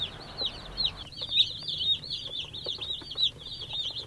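Meat chickens in an outdoor brooder cluck and squawk repeatedly in a busy, overlapping chorus close by, with soft rustling underneath.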